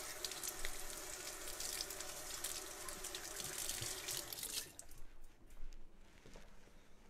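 Water runs steadily from a kitchen tap as hands are rinsed, a broad hissing rush that stops abruptly partway through, leaving quieter dripping and faint handling noises.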